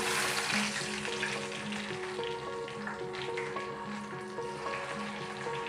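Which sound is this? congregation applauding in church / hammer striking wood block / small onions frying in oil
small onions frying in oil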